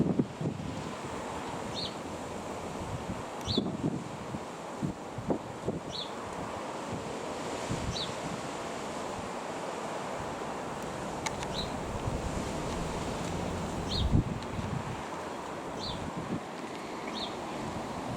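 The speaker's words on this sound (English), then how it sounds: "Like a bit too windy over there." Gusty wind buffets the microphone outdoors near an airfield, a steady rushing roar with periodic faint high chirps in the background and no speech.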